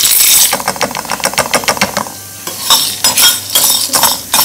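Spices and tomatoes fry in a pan for rasam powder, with loud, quick, rhythmic stirring scrapes and clicks against the pan over a light sizzle, up close, no talking.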